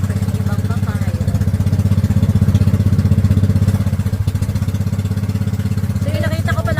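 A motorboat engine on a small boat near Pagbilao, Quezon chugs loudly and steadily with a rapid putter, continuous throughout, while voices speak over it toward the end.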